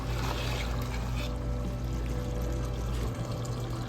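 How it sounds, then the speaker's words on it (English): Soaked basmati rice pours and splashes steadily into a pot of boiling water, a continuous rushing trickle with low bubbling underneath, close by and fairly loud. "Add the soaked basmati rice to the boiling water."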